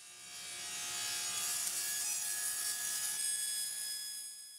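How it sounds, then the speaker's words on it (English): A table saw cuts a bevel in wood, a steady high whining blade tone with a rising and falling hiss of cutting across the pass, close and without talk. "When cutting bevels on the table saw like this, I like to do it in either 2 or 3 passes."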